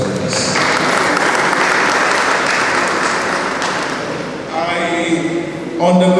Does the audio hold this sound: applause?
yes